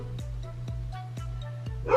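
A dog barks in about four evenly spaced, sharp yips at moderate distance over a constant low household hum, with a brief rustle at the very end.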